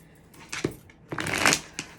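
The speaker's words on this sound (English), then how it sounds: "I have been shuffling the deck already" A tarot card deck is shuffled up close in a quiet room, with several soft riffling bursts separated by brief pauses and no talking.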